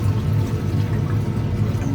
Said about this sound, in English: we're going to add a little bit more distilled water to this.